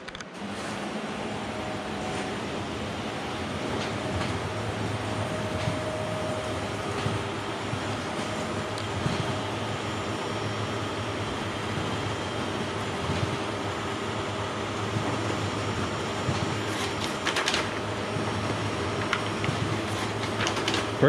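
Steady mechanical whir and rattle of a printer running a double-sided variable-data job through an EFI Fiery RIP, continuous and even throughout with faint intermittent clicks.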